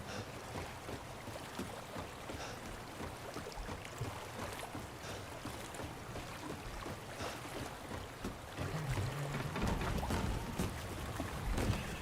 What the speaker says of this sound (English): I'm surprised this village has even heard of an outboard motor, as opposed to just using oars or something